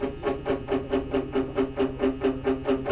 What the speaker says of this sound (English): if you did that with palm muting, it would sound like this